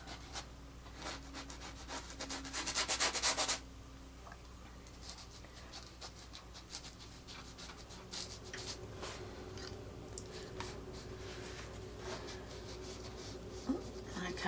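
Side of a paintbrush scrubbing roughly across a painting surface, a dense run of close, dry scratchy strokes that swell into a louder burst early on and continue in short rubbing bursts.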